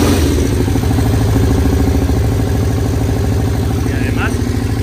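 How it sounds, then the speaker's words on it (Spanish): A Moto Guzzi GTS 400 motorcycle engine runs at a loud, close idle with a steady rapid thumping pulse, and a voice speaks briefly over it near the end. "Y además mantiene ralentí perfecto"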